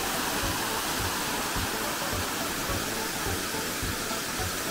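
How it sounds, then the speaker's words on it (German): Flowing water on Madeira, a constant close hiss and rush of running water, steady and fairly loud with faint low rhythmic bumps underneath and no talking. "Hier ein bisschen Wasser-ASMR für euch."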